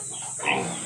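A pig grunts once, mid-clip, while being bathed for a fiesta, a short close snort over steady background noise.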